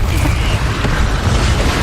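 Incendio fire spell cast in Hogwarts Legacy, a loud, dense rumbling burst that holds steady for about two seconds with no clear break.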